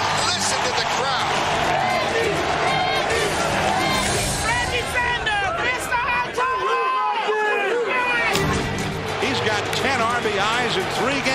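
A baseball stadium crowd roars after a grand slam by Reggie Sanders of the Cardinals in 2005, a dense, sustained wall of cheering and babble with a brief lull, heard under a broadcaster's excited commentary.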